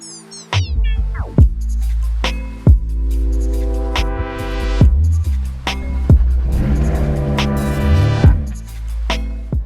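A 2016 Porsche GT3 RS engine on the move, revving up through several rising pulls with sharp shifts between them, loud and close with no speech over it.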